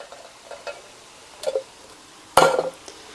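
Canned diced tomatoes are dumped into a pot for a one-pot creamy beef rigatoni, giving a few soft wet plops and a louder splattering slosh near the end, with quiet kitchen clatter between.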